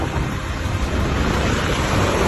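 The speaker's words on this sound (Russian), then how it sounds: "ну, да эти волны, это же стихия, это мощь, это энергия." Sea waves break on the shore in a continuous roaring wash, loud and close, mixed with heavy wind buffeting the microphone and no voices.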